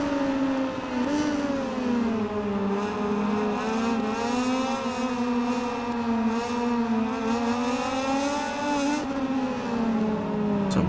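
A MotoGP 19 racing motorcycle engine drones steadily at high revs throughout, pitch rising and falling gently through corners, with a brief downshift blip near the middle; continuous, close and loud, with no talking.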